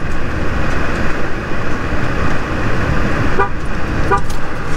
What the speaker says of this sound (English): the car honks.